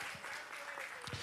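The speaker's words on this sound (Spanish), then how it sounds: "Dele fuerte el aplauso y tome su lugar." A church congregation applauds, a brief burst of soft, scattered clapping heard at a distance.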